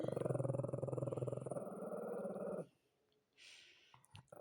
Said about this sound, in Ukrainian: Оце приносить, щоб гратися, кладе, а потім гарчить.